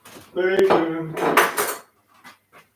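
A metal skillet of cooking bacon is pulled off the heat, clanking and scraping on the stovetop in a short burst, then a couple of faint light knocks, close by and with no talk over it.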